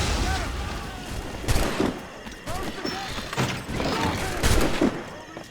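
Several gunshots crack out in a naval battle scene in Assassin's Creed IV. The irregular booms and thuds are spread across the clip, with voices shouting among them.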